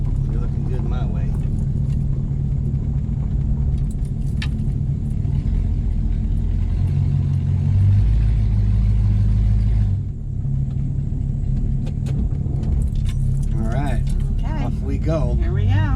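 A 1964 Dodge Polara 500 pulls away on a nice day, its engine a deep, steady rumble that swells as it drives off, heard close with people talking over it throughout.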